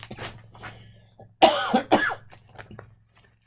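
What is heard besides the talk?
cough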